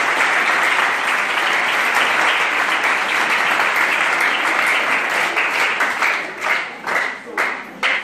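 A crowd at a community high school Valentine celebration in Nawfija applauds loudly and steadily, the clapping thinning into scattered claps near the end.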